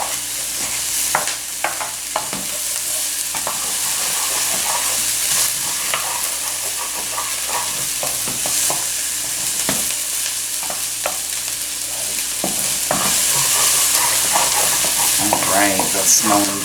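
Diced garlic sizzles steadily in hot oil while a utensil scrapes and stirs the pan in frequent close knocks and sweeps, with the frying hiss growing a little brighter toward the end.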